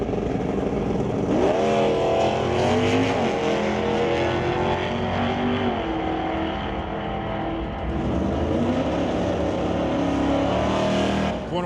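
Loud, continuous engine roar from drag race cars at a National Tire Wholesale Pro Race ET Series event, including a 1970 Plymouth Barracuda, with rising and falling revs that fill the whole stretch without break.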